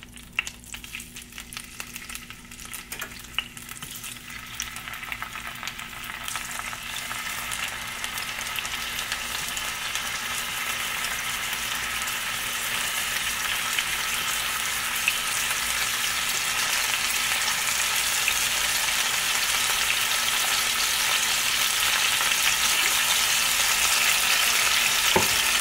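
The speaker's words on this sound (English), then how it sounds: "Now let's go ahead and place the wings right in the pan." Chicken wings fry in a pan with a steady, close crackling sizzle that gradually grows louder and denser over the long stretch, with no talking.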